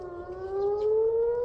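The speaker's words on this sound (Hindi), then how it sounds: "फिर से सायरन बज रही हैं और आप सायरन की आवाज़ सुन सकते हैं" Civil defense sirens sounding in Israel, a steady wailing tone slowly rising in pitch, loud and continuous with distant background noise and no speech.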